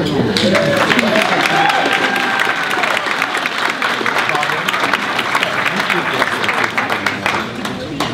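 An audience at an educator of the year award ceremony applauds an elementary school principal, a steady wash of clapping throughout with a voice speaking over it.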